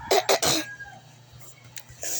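A few sharp coughs burst out close together at close range from a person who has a cold, then give way to a quiet room with faint, brief movement sounds.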